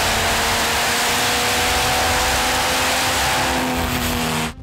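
Diesel drag race truck engine revving hard at around 5,000 RPM, a loud, sustained high-RPM roar with steady harmonic drone that holds for several seconds before cutting off abruptly at the end.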